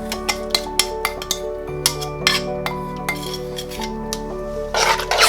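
Warm beef stroganoff sauce being stirred into sour cream in a bowl, with close, rhythmic clinks and scrapes of a utensil against the bowl over a background hum.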